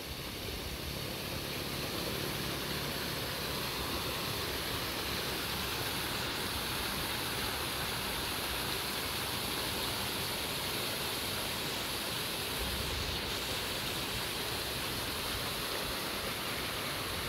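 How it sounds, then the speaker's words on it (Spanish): Waterfall at Quebrada Honda near Joyabaj, Quiché, a steady broadband rush of falling water heard from a distance, constant and unbroken throughout. "Lo que me gustó mucho es la cascada."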